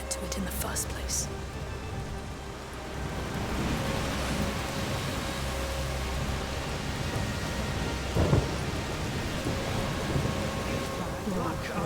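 Thunderstorm with steady rain in the video game A Plague Tale: Requiem: a dense, continuous wash of rainfall with low rumbling thunder underneath and a brief sharper crack near the end.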